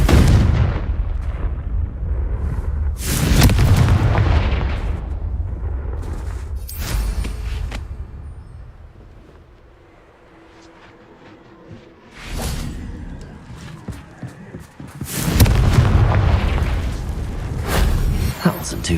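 In Hogwarts Legacy, several booming fiery Confringo blasts go off with whooshing bursts and rumbling decays, spaced apart across the stretch, loud and close, with gaps of quieter ambience between them.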